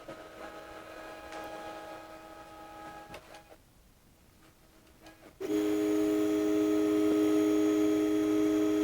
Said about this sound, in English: Looks like it's homing to the front left corner.